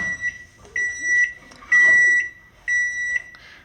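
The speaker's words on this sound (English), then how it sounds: "Now we're gonna take this, put it in the microwave for about a minute." A microwave oven beeps four times in a steady rhythm, with clear, close electronic tones and faint kitchen clatter between them.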